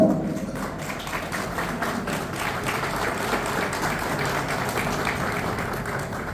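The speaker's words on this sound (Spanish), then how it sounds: "Fuerte el aplauso y posamos para la foto." Steady, dense applause from an audience at an arts and culture ceremony in the Palacio Barolo, sustained throughout without pause and with no talk over it.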